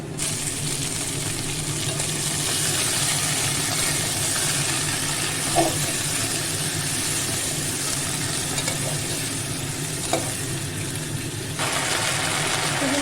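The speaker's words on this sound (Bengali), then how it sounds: "এই পর্যায়ে আমি সবজিটা দিয়ে দেব" Vegetables are added to a pan of hot oil with onion, chilli and bay leaves, producing a long, even, close frying hiss with a few faint clicks scattered through it.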